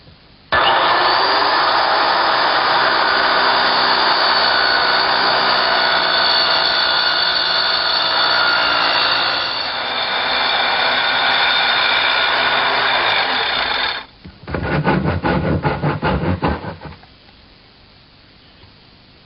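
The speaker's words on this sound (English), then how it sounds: "Position the saw over the line and then slowly plunge it through the material." A plunge saw cuts along the grain of plywood while building a dollhouse, with a loud steady motor whine for about fourteen seconds, then a brief rattling burst before the blade winds down.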